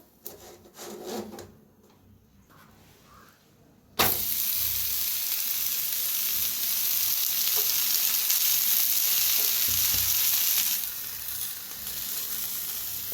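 Methi dhapata, a fenugreek flatbread, fries on a pan with a loud, steady sizzle that starts suddenly and holds, with faint scraping before it and no talk.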